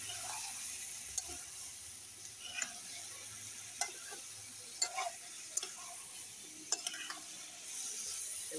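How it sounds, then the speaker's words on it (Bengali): Small chuno fish are stirred in a pan, soft frying sizzle under a series of sharp scraping and clinking strokes from the utensil, spaced irregularly and heard up close without talk. "ভালো করে নাড়াচাড়া করে নেব।"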